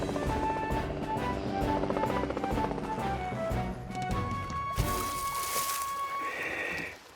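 Helicopter in a French-dubbed Fireman Sam animated cartoon, with a steady rotor drone under busy music and effects, followed by a sudden louder whooshing burst near the end.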